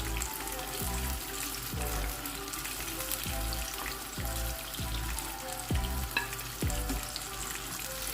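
Lahori fried fish crackles and sizzles steadily in hot oil, with a series of low rhythmic thumps and stirring clatters recurring roughly every second throughout, no voices present.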